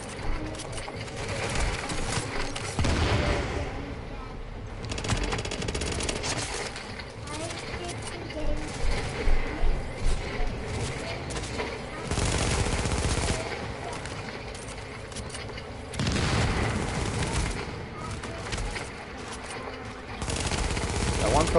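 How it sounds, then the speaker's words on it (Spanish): Bursts of video game gunfire rattle repeatedly, including rapid strings of shots, mixed with ongoing game noise and talking. "Un par de tiros también."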